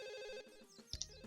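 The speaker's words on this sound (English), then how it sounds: "Might be worth picking up that phone there as well." A Sims telephone rings with a steady electronic tone that cuts off partway, followed by a couple of soft clicks.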